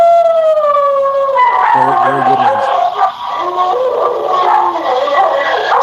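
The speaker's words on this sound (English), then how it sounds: "Sorry about the dogs." Dogs howl loudly and close by in long wavering cries, joined by barks and yips, while someone talks over the noise.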